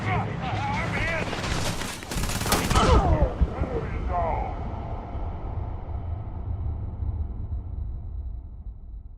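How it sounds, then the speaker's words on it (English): Rapid bursts of gunfire in the video game Starfield, loud and rattling, with a peak of dense shots midway, under and around shouted talk, then trailing off into low rumble. "Surrender immediately! Opening fire."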